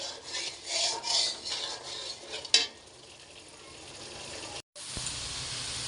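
Spices fry in a pan for a mixed fish curry, a low hiss with a few brisk scraping stirs early on, then a quieter steady sizzle after a sharp clink and a brief dropout.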